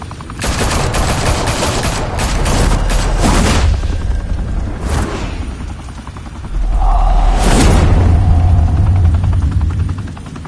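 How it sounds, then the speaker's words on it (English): Gunfire erupts in a Batman Telltale game scene, dense bursts of shots and booms crowding together loudly over a helicopter-like roar, easing briefly before a second heavy wave of noise. "Open fire!"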